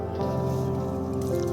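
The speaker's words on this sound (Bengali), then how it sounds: "এগুলো আমি চেপে চেপে তুলে নেবো বন্ধুরা জল থেকে একদম" Soaked thick-grain flattened rice (chira) squeezed by hand and lifted out of water, a steady wet squishing with faint drips, close and continuous.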